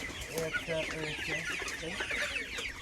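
Forty-seven-day-old hybrid Sonali chickens cluck repeatedly at close range, short throaty calls coming in a loose, uneven series over a steady farmyard background.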